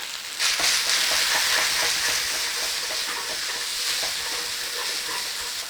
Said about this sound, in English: Char the noodles if you can. Now don't worry if it sticks to the pan.